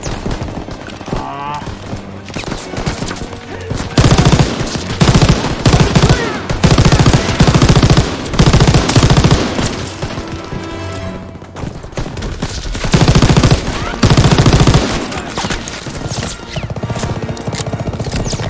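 Sustained machine gun fire and bursts of gunfire in the World War II shooter Call of Duty WW2 on a D-Day beach landing, loud and dense with heavy battle noise throughout and brief spoken words mixed in.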